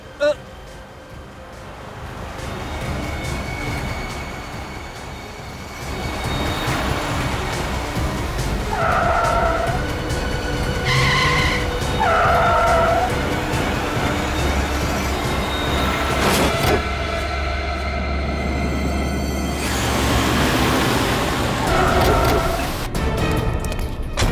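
Car tyres skid and screech under reckless driving in a crime drama chase, with squealing bursts over a continuous engine and road rumble, alongside talk and background music.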